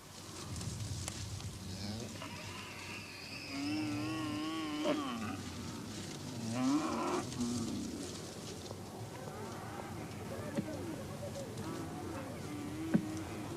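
Cattle on broad Hausaland grazing plains give drawn-out, wavering moos that rise and fall across the middle of the clip, moderately near, over a steady low background with other livestock-like calls.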